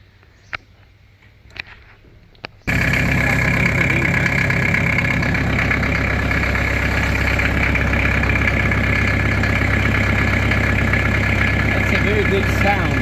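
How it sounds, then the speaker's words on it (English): After a few faint clicks, a car engine freshly filled with new oil starts and runs at a steady, loud, smooth idle, a continuous low hum carrying on to the end. "I love the sound of new oil on the engine. So much smoother."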